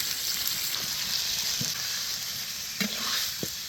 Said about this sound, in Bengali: তেল গরম হয়ে গেছে, মুরহার গোস্তটারে হালকা ভাজিয়ে নিমু